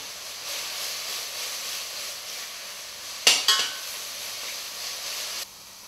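Sliced mushrooms frying in a hot pan give a soft, steady sizzle and hiss, broken near the middle by two quick sharp utensil clinks before the sound drops away at the end.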